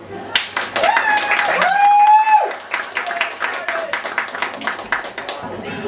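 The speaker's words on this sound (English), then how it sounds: "Applause." Clapping breaks out at a launch party, dense hand claps rising under a loud voice that talks and calls out over them, then thinning into scattered claps.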